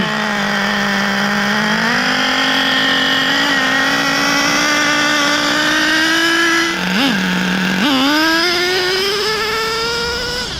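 Traxxas Revo nitro RC truck engine running loud and close, a high buzzing whine that climbs gradually as it warms, dips briefly to idle, then revs back up and holds.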